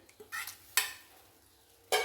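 A spoon scrapes and stirs through horse gram rasam in a pot in three short bursts, separated by quiet pauses.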